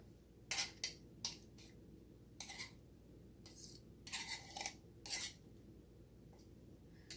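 Repeated scraping and clinking of a metal pastry blender cutting fat into flour in a bowl, in short irregular bursts, close by with no talking.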